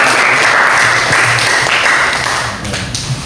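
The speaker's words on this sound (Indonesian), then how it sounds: "tepuk tangan ya buat" Classroom applause: a dense, loud burst of many hands clapping together, close by, sustained for a few seconds before tapering slightly.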